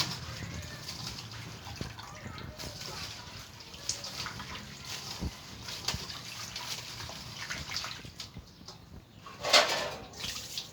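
Insects are rinsed in water before cooking, giving close sloshing, splashing and trickling sounds that rise into a brief louder gush near the end.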